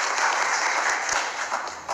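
An audience at an Indonesian political event announcing Ganjar Pranowo's vice-presidential running mate, with Megawati Soekarnoputri, applauds in a dense, sustained burst of clapping that fades slightly toward the end.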